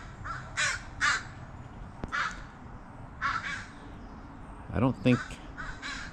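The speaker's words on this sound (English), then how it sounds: "Oh yeah, there's a fourth crow here." Several crows caw in short harsh bursts from moderate distance around a yard being readied for holiday lights, with a person talking intermittently between the calls.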